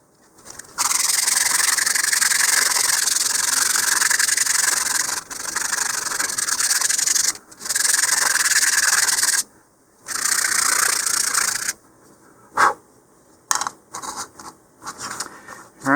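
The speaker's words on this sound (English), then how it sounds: "now I'm going to switch over to 150 grit sandpaper here" 150 grit sandpaper rubs over a model rocket in close, loud bursts of steady scratchy strokes, broken by short pauses and ending in quicker, choppier passes.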